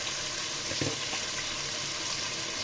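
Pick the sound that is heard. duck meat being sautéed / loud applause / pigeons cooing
duck meat being sautéed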